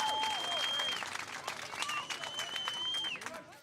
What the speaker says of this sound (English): Strike 1, draws a roar from the crowd.